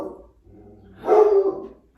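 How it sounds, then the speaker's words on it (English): A hound dog barks once loudly and close, the bark preceded by a softer whine, with no talk over it. "Hound dogs."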